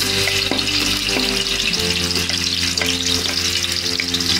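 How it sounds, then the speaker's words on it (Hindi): Onions dropped into hot oil sizzle and fry steadily in a pan, a continuous bright crackle with a few stirring clinks while cooking for a chicken sausage pulao. "ऑयल मेरा गर्म हो चुका है तो हम इसमें प्याज डालेंगे"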